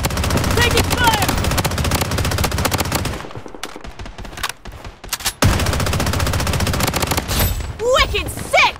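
Rapid automatic gunfire rattles loudly and almost nonstop in the Blood Strike shooter, dense bursts with a brief lull near the middle before firing resumes, game announcer callouts mixed in.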